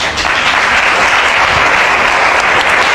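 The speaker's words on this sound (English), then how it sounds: "Oh, quit clapping, because I'm coming to you now, Ms. Duncan." A courtroom crowd claps steadily and densely throughout, a loud, continuous wash of many hands with no pauses.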